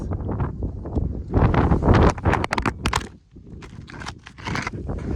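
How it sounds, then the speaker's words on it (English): A big outdoor wind gust buffets the microphone, a loud rushing roar that swells, dips briefly and builds again, with scattered scraping and rustling beneath it. "Oh, there's the wind. A big gust."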